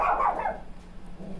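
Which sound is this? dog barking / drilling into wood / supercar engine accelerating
dog barking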